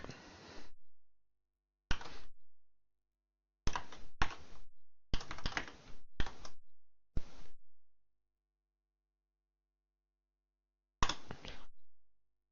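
Keyboard typing while Python code is written, in several short bursts of quick clicking keystrokes separated by pauses, close and fairly quiet, with no talking.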